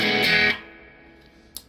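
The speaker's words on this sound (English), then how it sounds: "This is useful if you want to just boost the rest of the pedals a little bit. Maybe give it a little bit of distortion." Electric guitar played through a boost and distortion pedal on a pedalboard, a loud thick distorted chord ringing for half a second, then decaying into a sustained hum with a faint pick click near the end.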